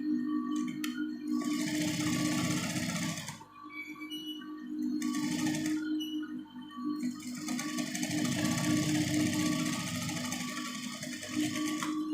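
A sewing machine fitted with a gathering foot stitches cloth into small frills, running steadily and close with a rhythmic mechanical whir that briefly pauses twice before resuming.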